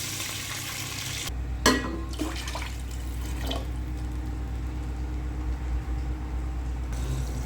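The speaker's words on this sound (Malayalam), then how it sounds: "ഒന്നിന് ഒന്നര കപ്പ് എന്നുള്ള രീതിയിൽ വെള്ളം ഒഴിക്കുക" Water poured into a pot of fried onions for mutton biryani brings a sudden splash and hiss, settling into a steady close bubbling sizzle that continues through the clip.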